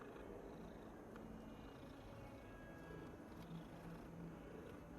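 A cat purrs in the Hogwarts Legacy video game, a soft continuous low rumble with gentle rhythmic pulsing, faint and close, with no talking over it.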